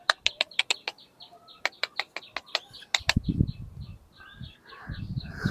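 Rapid, high-pitched peeping from ducklings, repeated in quick bursts, with rustling and shuffling noises joining partway through.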